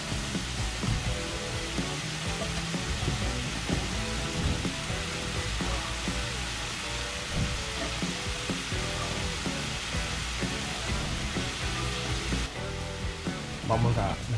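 Boiled chicken gizzards sizzle and fry in a pan, a steady crackling hiss running throughout beneath prominent background music.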